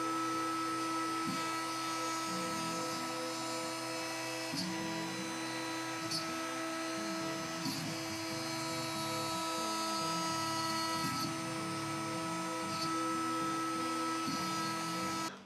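A CNC router taking a finishing pass with a 2 mm ball-nose bit over a wooden guitar bridge: a steady high whine with layered motor tones and a rhythmic grinding pattern underneath, constant and close throughout.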